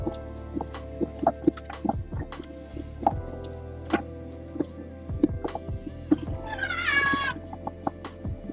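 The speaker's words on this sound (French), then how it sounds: "Oui, mon chat, on est occupé." A house cat meows repeatedly in a home kitchen during cooking, with short, fairly close calls scattered among light clatter and drips, plus one longer, rising meow near the end.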